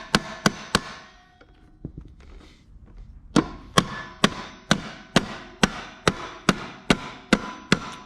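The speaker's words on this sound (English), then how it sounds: "let's see if we can get a hammer here." A hammer strikes the metal of a Ferrari 250 GTE seat in sharp, evenly spaced taps, a few quick hits and then a steady run of about a dozen ringing blows close up.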